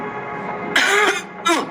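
A woman coughs while being choked in a dramatized audiobook scene, with two harsh, strained cough bursts following a quiet, breathy lead-in.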